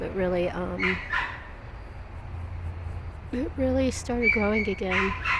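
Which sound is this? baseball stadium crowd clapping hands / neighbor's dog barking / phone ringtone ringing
neighbor's dog barking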